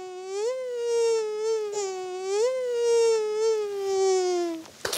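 A human voice imitates a buzzing mosquito, holding a thin, sustained nasal whine for about five seconds that wavers slightly in pitch and pulses gently, heard close and alone with no talk over it.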